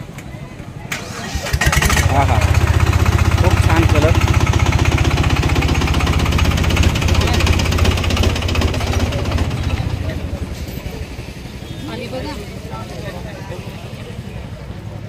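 A heavy diesel tractor engine cranks and starts at an agricultural exhibition in Sangola, chugging loudly and steadily for several seconds before easing down, with people talking nearby.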